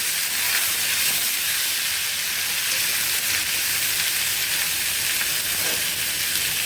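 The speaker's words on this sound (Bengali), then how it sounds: "আর এখন বেগুন আর আলুটা একটু ভেজে নেব, হালকা করে ভাজবো।" Eggplant and potato fry lightly in fish oil with a loud, continuous, close hiss and crackle that stays even and unbroken throughout.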